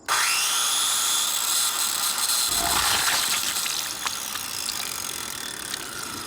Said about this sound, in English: electric saw.